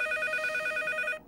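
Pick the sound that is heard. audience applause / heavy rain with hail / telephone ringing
telephone ringing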